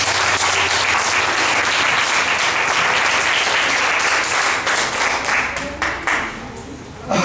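A church congregation applauds for several seconds, dense sustained clapping filling the room, thinning and breaking up toward the end.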